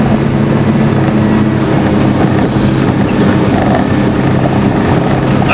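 A Polaris Ranger Northstar UTV fitted with a new clutch kit drives in low gear at around 20 mph, giving a continuous loud engine and drivetrain drone with steady rumble and road noise throughout, no talking.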